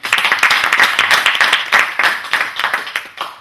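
An audience at an international conference applauds, a dense run of close, loud clapping holding steady for a few seconds with a faint voice underneath.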